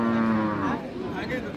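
A Friesian cow lets out a long, loud moo at the Raniganj cattle market in Dinajpur, a single sustained call with crowd noise behind it.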